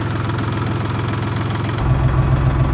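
A Dongfeng 244G2 tractor engine idles at low revs, a loud, close, steady diesel chug whose knocking pulse becomes heavier and more pronounced partway through.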